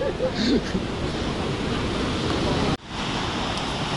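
Rushing water of a waterfall in Johnston Canyon, seen from a higher vantage point, a steady broadband roar with a brief dropout near the end and faint voices nearby.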